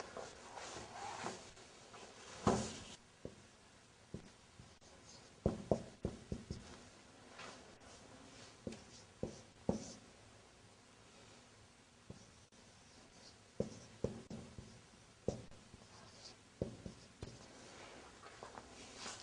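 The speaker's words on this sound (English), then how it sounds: "Now I want to write down something on the board again." Marker or chalk strokes on a classroom board during an Islamic grammar lesson, a quiet room with irregular scratchy taps and squeaks spaced through the stretch, no talking.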